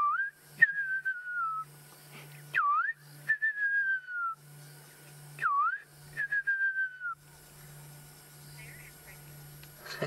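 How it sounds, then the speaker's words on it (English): A fiery-necked nightjar calls at sunset in the Sabi Sand, South Africa, giving a repeated whistled phrase of a few descending notes followed by quick warbles, several rounds in a row over a low steady hum. "That's the fiery neck nightjar, everyone."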